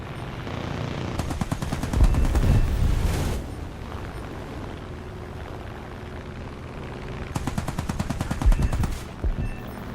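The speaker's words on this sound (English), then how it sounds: "Man, these guns sound weak, don't they?" Aircraft machine guns in War Thunder rattle in two long, rapid bursts, loud and continuous over a rumbling engine drone with a quieter gap between them.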